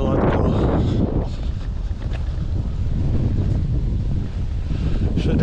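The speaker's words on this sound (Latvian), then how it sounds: "Šodien tāds vējains laiks ir" Gusty wind buffeting a microphone on a windy day, loud low rumbling blasts that swell and ease without pause, with no clear speech.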